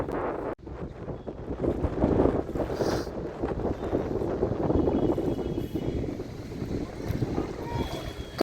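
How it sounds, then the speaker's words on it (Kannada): Strong wind buffets the microphone beside the rushing Ganges at a riverside ghat, a loud continuous roar of moving water and gusts after a brief cut at the start, with faint voices in the background. "ನೀರಿನ ರಭಸನೂ ತುಂಬಾ ಜೋರಾಗಿತ್ತು. ಹಾಗೇನೆ ಸಖತ್ ಗಾಳಿ ಇತ್ತು."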